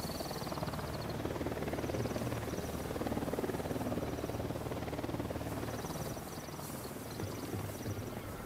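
Helicopter flying in the tactical shooter Ghost Recon Wildlands, a dense, loud rotor drone with steady low thumping that holds for the whole stretch, faint high chirps briefly rising over it.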